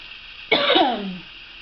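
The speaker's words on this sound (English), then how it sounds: "oh my gosh, cough attack." A short, harsh cough from someone still getting over a cold, one raspy throat-clearing burst that trails off in about half a second, close to the mic with no talking.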